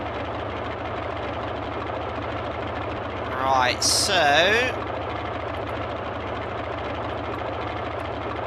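A Boeing 247 engine running at about 1100 RPM in a flight simulator, a steady loud low drone throughout, with someone talking briefly over it midway.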